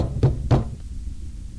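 Two heavy, booming knocks land on a door in quick succession, close and loud, followed by a softer thud and a low rumbling background.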